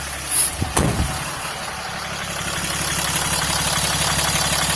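A couple of brief knocks, then the Cummins diesel engine of a 2008 Dodge Ram 3500 pickup idles steadily nearby, a low rumbling drone that grows slightly louder toward the end.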